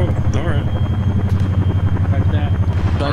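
Helicopter in a video game coming in to land close by, a steady loud rotor rumble with rhythmic thumping that holds throughout while players talk over it.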